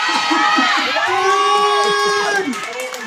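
A large outdoor crowd at a Manila political rally shouts and cheers loudly and continuously, with children's voices and whoops mixed into a dense wall of noise.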